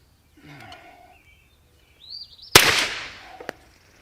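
A PSR22 carbine fires one sharp, loud shot outdoors that rings out with a decaying tail, followed by a fainter short crack; birds chirp quietly beforehand.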